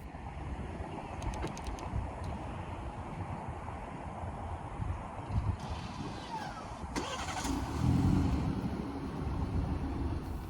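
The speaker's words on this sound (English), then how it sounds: "It also has a remote start feature." BMW 330i G20 LCI four-cylinder engine cranking and catching via remote start outdoors, a brief starter whir followed by a steady low idle rumble that swells slightly, with wind and faint birds in the background.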